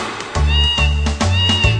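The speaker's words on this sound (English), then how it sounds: "The cat says meow." A cat meows clearly several times in a row, close and fairly loud, each call drawn out with a rising then falling tone.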